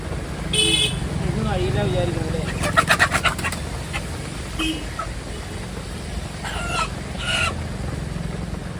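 Village chickens, their legs tied, cluck in short bursts nearby indoors over a constant low hum, with people talking in between.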